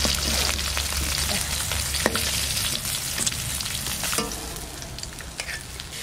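Pieces of snakehead fish fry in hot oil in a home kitchen pan, a steady, close, broadband sizzle running throughout, with occasional crackles and the stir of a utensil, no voices.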